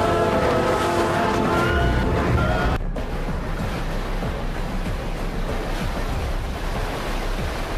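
Steady roar of Red Sea surf washing onto a shore, broad and continuous, with a brief cut partway through before the waves carry on.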